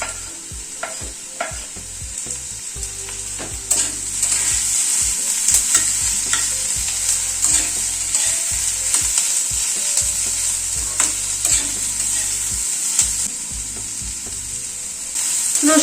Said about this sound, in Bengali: রসুন আর কাঁচা লঙ্কাটাকেও একটু হালকা করে ভেজে নিলাম।